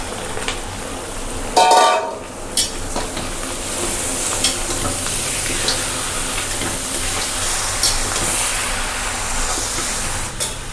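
Mutton sizzles with onions in a pan for a Bihari-style curry, a steady, close frying hiss broken by the scrape and clatter of stirring.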